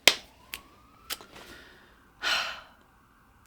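A faint siren from a police car or ambulance wails outside as a thin rising tone far in the distance, under nearby sharp breaths and a sigh.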